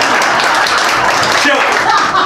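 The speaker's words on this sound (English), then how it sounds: "go ahead, clap, please." At a campaign stop, an indoor audience claps in a short, dense burst of applause, many hands together at close range, with a few voices audible through it.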